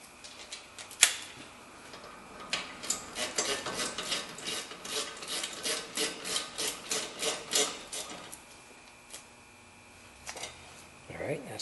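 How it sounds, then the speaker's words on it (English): A wrench ratchets a 17 mm bolt tight at the bottom of a front-wheel-drive car axle, a run of quick rhythmic clicking strokes that speeds up in the middle, fairly close, with a few louder clanks. "we're going to tighten up the next 17 millimeter on the bottom."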